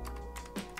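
Quick keystrokes of code being typed on a computer keyboard, a few light clicks in a brief uneven burst, close and clear with no talking.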